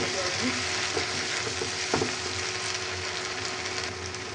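Loud, steady sizzle of ginger-garlic paste frying in oil, with a few faint clinks of stirring and no voices.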